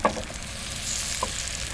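Eggs cooking in a pan over medium-low flame, a soft continuous sizzle with a couple of faint scrapes as they are pushed from the edges toward the center, close and quiet, no talking.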